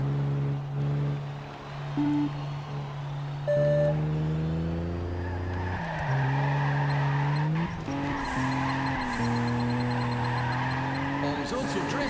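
Car tires squeal and skid through a drift in the racing game Juiced 2, with engine tones rising and falling under steady loud game music and effects for about twelve seconds.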